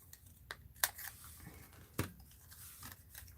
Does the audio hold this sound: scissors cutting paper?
yes